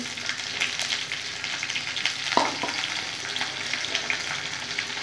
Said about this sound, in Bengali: কালো জিরা, রসুন আর শুকনো লঙ্কা ভালো করে ভেজে নেব।